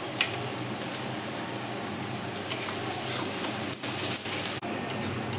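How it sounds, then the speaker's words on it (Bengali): Salted chopped onions fry in a pan for muri ghonto, making a soft, steady sizzle with a few stirring scrapes near the end and no speech. "আমি পেঁয়াজটাকে খুব ভালো করে ভেজে নিলাম"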